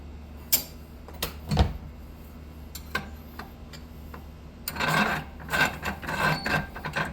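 Metal bushing being worked off the shaft of a Stihl KM 91R trimmer power head, heard as scattered scraping ticks and knocks with a denser run of rasping near the end, close and fairly quiet.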